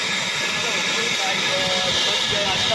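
A driverless train rolls along the rails with a steady, loud broadband hiss like escaping steam, and faint high squealing tones drift in and out across the whole stretch.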